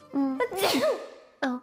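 A person sneezes once, loud and close: a voiced intake rising into a sharp burst, then a short pause and a brief voiced exclamation from someone nearby.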